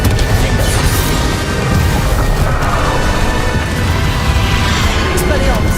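A Confringo fire spell blast from the Hogwarts Legacy video game: a heavy, rumbling boom with crashing debris that holds a dense, continuous roar of low-end energy throughout, loud and close.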